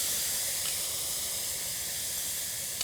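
Banana pieces hit a nice hot oiled pan and sizzle, a dense steady hiss of frying that stays loud and even from start to finish, with no voices over it.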